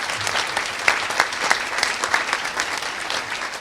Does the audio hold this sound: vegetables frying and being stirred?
no